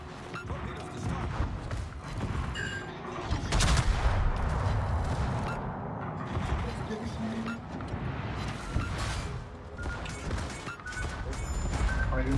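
Torpedo striking a warship in the World of Warships naval game, a loud crashing explosion amid rolling gunfire and booms, with a voice talking over the battle.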